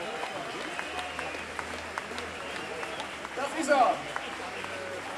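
Applause from a jazz concert audience in Hildesheim greeting a saxophonist and clarinettist, steady moderate clapping with a brief louder swell, while someone speaks over it.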